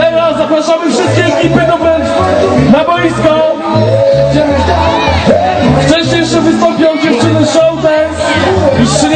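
A festival crowd cheers, whoops and shouts during a Grand Prix awards ceremony at a beach sports festival, the voices loud and continuous over pounding music with a steady thumping beat.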